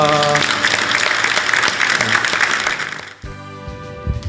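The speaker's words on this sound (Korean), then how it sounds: "박수로 감사합니다." A church school Teachers' Day audience applauds with loud, dense clapping for about three seconds before it fades and a voice begins talking over a quieter room.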